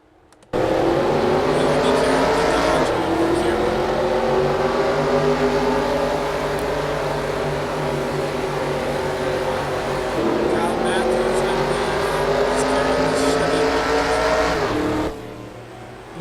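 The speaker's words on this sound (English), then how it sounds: "Drivers, start your engines!" Race car engines roar together at the start of the NRSL Trident 300 sim-racing event, a loud sustained drone with shifting revs and pitch changes running continuously for most of the stretch.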